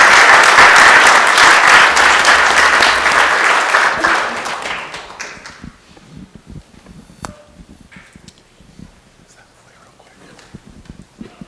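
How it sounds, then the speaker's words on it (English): A council meeting audience bursts into loud, dense applause that holds for a few seconds and then tapers off, leaving scattered claps, shuffling and faint room noise. "Let's give them a hand of applause."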